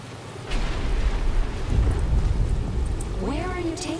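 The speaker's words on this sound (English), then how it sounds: "But it's starting to rain." Rain and thunder in the video game Batman Arkham Asylum: a steady wash of rain with low rumbling swells, and voices talking over it toward the end.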